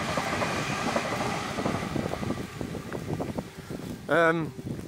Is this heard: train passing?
yes